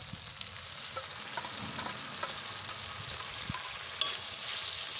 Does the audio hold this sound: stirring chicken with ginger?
yes